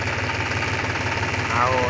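A tractor engine idles loudly and close by on a village farm, a steady throbbing rumble with a rhythmic knock that swells slightly toward the end.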